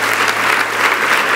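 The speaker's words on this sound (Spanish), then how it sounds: "En el nombre de Cristo Jesús te damos el mejor aplauso de toda nuestra vida" A church congregation claps together in a dense, loud burst of applause that fills the room evenly for a brief moment.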